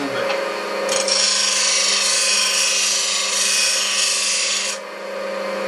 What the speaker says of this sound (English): I take it over here on the 46 grit wheel, and I kind of grind the heel out of there a little bit.